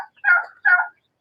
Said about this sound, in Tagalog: Ito yung pabo namin dito.